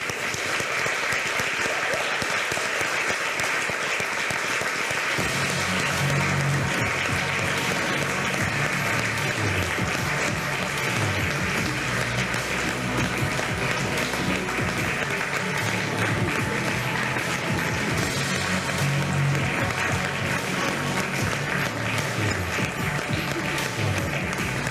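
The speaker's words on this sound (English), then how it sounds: "I think we should clap" An audience claps at an awards ceremony at a women in games conference, sustained applause rolling on for many seconds, growing fuller after the first few seconds and staying steady to the end.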